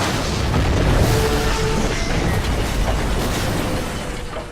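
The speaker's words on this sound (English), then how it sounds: "Watching the plane crash and half of it fall apart before exploding" A crashing plane breaks apart and explodes in Call of Duty: Modern Warfare 2, a loud sustained deep rumbling boom that rolls on and slowly fades, with no talk.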